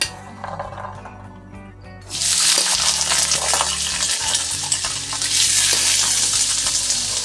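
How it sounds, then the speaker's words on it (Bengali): Vegetables for pakoras drop into hot oil, a loud close sizzle erupting after a quieter stretch of clinks and then hissing steadily on. "তেল দিয়ে এবার আমি এর মধ্যে আগে থেকে যে সবজিগুলিকে করে রেখেছিলাম সেই সবজিগুলি এর মধ্যে দিয়ে দেব"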